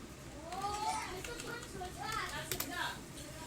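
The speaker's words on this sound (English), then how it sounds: "You can hear my kids going wild in the background." Several young children shout, squeal and chatter wildly while playing indoors, their high voices loud and continuous across the whole moment.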